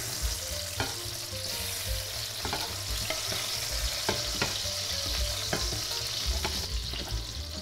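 Pepper frying in a pan for a pork rib stew, a steady close sizzle with scattered sharp crackles and pops throughout, and no voices over it.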